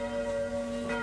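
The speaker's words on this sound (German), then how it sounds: "Eine neue Glocke?" A newly cast church bell rings out with a steady, full tone, its strong sustained hum ringing alone and fairly loud for about a second.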